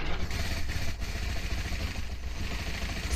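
A WWII Japanese fighter plane's piston engine runs after starting for takeoff, a loud, steady, rough drone filling the whole stretch with no voices.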